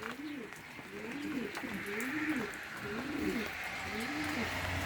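Adana pigeons kept as a hobby coo in their loft, giving a series of repeated low, rolling coos in a regular rhythm, close and clear over a faint background hiss.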